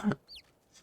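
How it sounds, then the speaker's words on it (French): A chicken in the video game Divinity: Original Sin II gives a single short, soft cluck after a brief low voice. "J'ai adopté une poule."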